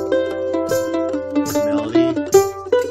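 A mandolin is cross-picked, notes rippling across strings in a quick, even pattern with ringing chords underneath.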